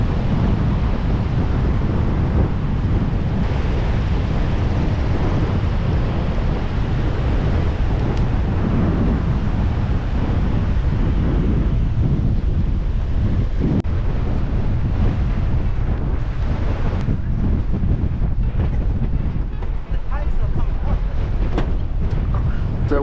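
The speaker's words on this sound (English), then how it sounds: "Still super windy, but better than blowing left to right." Strong wind buffets the microphone on an Outer Banks beach during surf fishing, a loud, steady roaring rush with surf noise blended underneath, lasting throughout with no break.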